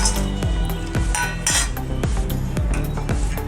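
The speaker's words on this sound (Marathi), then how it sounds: "आत्ता आपण एक कढई तापायला ठेवली, त्यामध्ये शेंगदाणे भाजून घेऊया." Peanuts are roasted in a heated kadhai while a spatula scrapes and clinks against the metal in a steady, loud rhythm, roughly two strokes per second.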